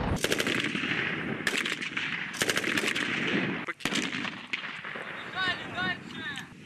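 Gunfire crackles through military obstacle course training, with rapid machine-gun bursts and heavy booming shots, loud and dense, and a voice calling out near the end.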